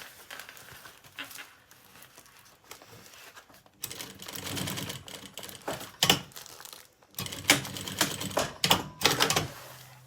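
A sewing machine stitches a kids' lunch bag in short, uneven bursts of rapid mechanical clatter, fairly close, with quiet pauses between runs and no talking.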